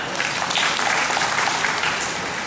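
Loud, steady applause from an audience at a Marathi school function honoring poets, thick continuous clapping with no pauses and no talk over it.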